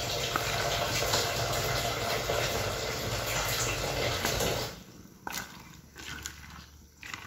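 Water pours steadily into a cooking pot of corn for several seconds, then stops, leaving a few faint clinks and shuffles.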